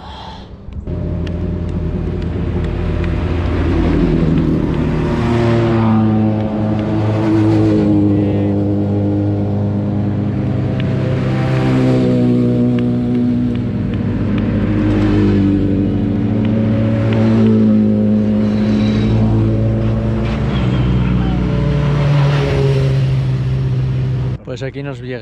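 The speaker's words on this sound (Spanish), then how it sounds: "aquí nos llega ya el vehículo de prensa, justo detrás de Arcaiz y de Joseba" A press car arrives during the Jaizkibel hill climb race, its engine revving and swelling repeatedly as it climbs, loud and close, while voices talk throughout.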